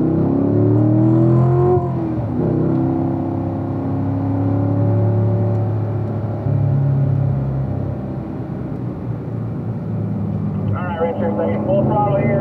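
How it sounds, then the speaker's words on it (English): A car engine revs hard at full throttle with rising whining tones, then eases and builds again, under steady engine roar with people talking over it. "Full throttle here, and then again, coming about half throttle."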